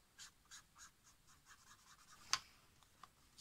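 Art pens scratch and glide across paper while a book is decorated, giving soft, close strokes in an uneven rhythm with one sharper tap partway through, quiet and alone.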